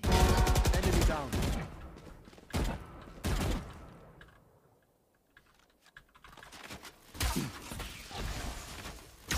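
Gunfire in the tactical shooter Valorant: sharp bursts of shots break out in clusters across the match, loud and close, with a near-silent gap midway before more firing resumes.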